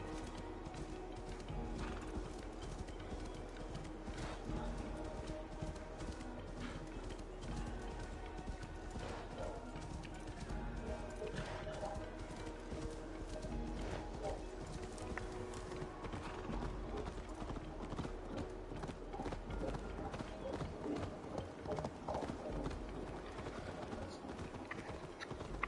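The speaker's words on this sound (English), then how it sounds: "A magical horse" Horse galloping in the video game Assassin's Creed Valhalla, a steady stream of rapid hoofbeats under a continuous background bed, running unbroken throughout.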